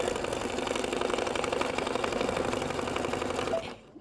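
An embroidery sewing machine stitching fabric, a fast steady mechanical whir and needle rattle running loud and close, then stopping abruptly near the end.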